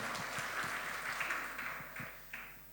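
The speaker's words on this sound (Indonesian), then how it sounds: "Yang percaya berikan tepuk tangan dulu buat Allah kita" A church congregation claps for God in a brief, fairly soft burst of applause, with a few sharper individual claps standing out as it fades.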